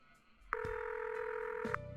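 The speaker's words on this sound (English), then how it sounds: "Let's go into the phone. Let's call O this time." Phone dialing in the video game Buried Stars: a steady electronic tone sounds loudly for over a second, bracketed by short clicks, with no talking.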